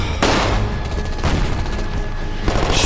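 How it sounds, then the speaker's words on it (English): Gunfire in a Walking Dead television episode: three heavy, booming blasts land roughly a second apart over a loud, continuous background din. "She's shooting anyway."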